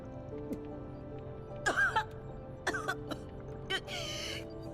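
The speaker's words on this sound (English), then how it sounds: "I'm coughing too." Three short coughs or throat-clearing bursts from a video game character in Girls' Frontline 2: Exilium, spaced over a few seconds, moderately loud above a steady low hum and faint background music.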